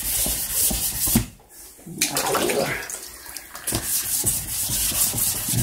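Primer on the roof of an AC Cobra being hand sanded, a steady close rasping rub with a brief pause partway through, loud and continuous, no talking.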